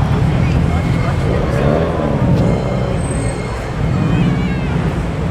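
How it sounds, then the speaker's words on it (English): Holden Commodore and WRX cars pull away from a Sydney car show at Homebush, their engines giving a loud, continuous roar close by with shifting revs, mixed with surrounding crowd and traffic noise. "This is Commodore WRX, and another one behind it."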